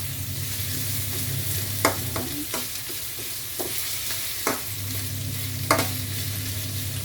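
Onions sauté in a hot pan for chicken tinola, giving a steady soft sizzle broken by several sharp clinks and scrapes of stirring.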